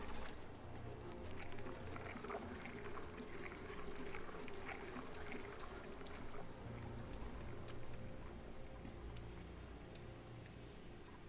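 Water pours and splashes steadily in the Oxygen Not Included video game, a faint, continuous wash of liquid that runs throughout with no talking.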